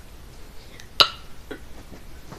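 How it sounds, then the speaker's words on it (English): A deliberate real burp from a person swallowing air: one sharp, loud eructation near the middle, followed by a couple of fainter short throaty bursts, close and without speech. "these are not fake burps at all"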